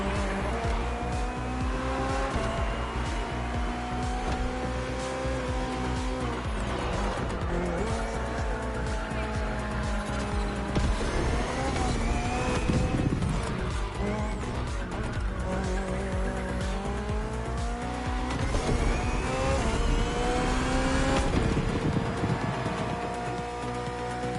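A hybrid V8 race car in The Crew Motorfest roars loud and steady throughout, its pitch climbing and falling through gear changes, with tire squeal and skidding mixed in.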